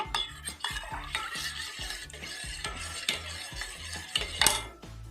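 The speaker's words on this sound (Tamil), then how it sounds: "இது அப்படியே கைவிடாமல் கலரிகிட்டே இருக்கணும்" Ragi porridge for a baby being stirred continuously in a pan, a spoon scraping and clinking against the metal in a quick, regular rhythm with faint bubbling underneath, close and fairly quiet.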